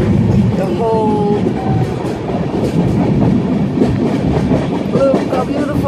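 An Indian passenger train travelling from Mumbai to Varanasi rumbles along the rails with a constant loud clatter, while faint squeals and tonal whines rise briefly above the running noise.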